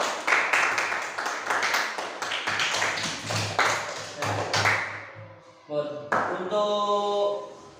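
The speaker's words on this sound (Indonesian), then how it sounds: "beri tepuk tangan untuk kelompok yang kedua." Classroom applause for the second student group at an Indonesian elementary school, a burst of clapping that fades out, with a voice speaking over it before chiming tones ring at the end.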